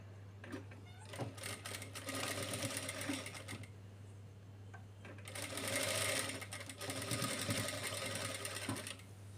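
A sewing machine stitches a lehenga bodice in two steady whirring runs of rapid needle clatter, separated by a brief pause, close and fairly loud over a constant low hum.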